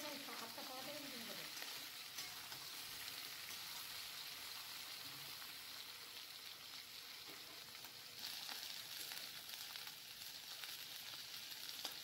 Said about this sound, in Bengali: এখন আমি ভালো করে নাড়িয়ে চাড়িয়ে নিচ্ছি। এটা একটু আগে ভাজা ভাজা মতন করে নেব।